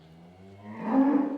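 A noisy cow moos once, a low drawn-out call that swells louder toward the end, close by and alone.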